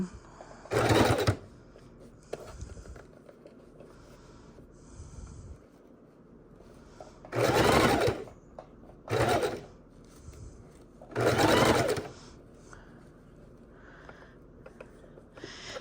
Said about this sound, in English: we're going to sew our lace right down this side.